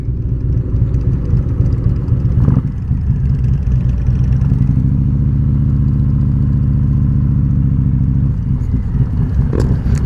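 Motorcycle engines rumble at Laconia Bike Week in New Hampshire on a clear day, a loud, steady, close low drone with a brief rise in revving midway and no talk.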